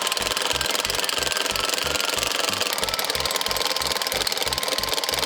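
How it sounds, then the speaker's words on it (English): Impact driver drilling into stone for a set of bookends, a steady rapid hammering rattle that pulses evenly throughout, close and loud with no talk. "I've never drilled with an impact driver."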